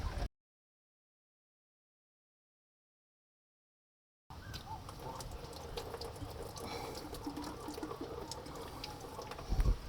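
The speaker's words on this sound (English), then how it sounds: "a little bit of coolant just left in those hoses, so that's just going to drip out there for a while" Leftover coolant trickles and drips steadily from disconnected heater hoses on a Subaru Forester, at close range, a continuous wet splashing after a stretch of silence.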